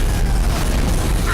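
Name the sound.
explosions in the video game Dead Space 3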